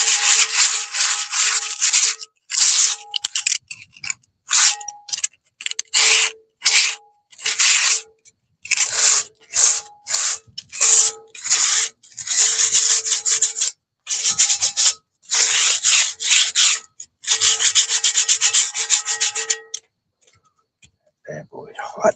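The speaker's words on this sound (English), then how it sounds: "It's pretty dry now. I'll sandpaper." Dry wood is hand-sanded with sandpaper in short, brisk back-and-forth strokes, close and fairly loud, coming in bursts separated by brief pauses for about twenty seconds.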